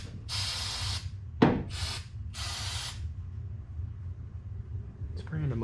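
Aerosol lithium grease sprayed into a power window switch on an FC3S Mazda RX-7: three short, close hissing bursts in quick succession over a low background rumble, with no speech.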